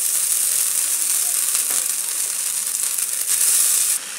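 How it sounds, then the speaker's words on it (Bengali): Boiled chow mein noodles hit hot oil left from frying onions until red, giving a loud, steady broadband sizzle that continues throughout with no talking. "এবার সেদ্ধ করা চাউমিনটা দিয়ে দেবো।"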